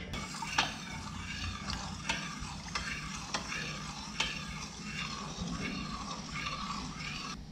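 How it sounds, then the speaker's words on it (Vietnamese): Eggs and vanilla are stirred for flan, a soft, steady swishing with light, regular clinks of a utensil against a bowl, close but quiet. "Sau khi mà cho trứng vào đây thì các bạn cứ khuấy đi, khuấy tiếp để cho nó tan ra"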